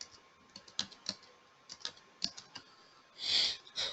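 Quick bursts of keystrokes on a computer keyboard as an SAP transaction code is typed in, light irregular clicks close by with brief pauses, ending in a louder, longer key press.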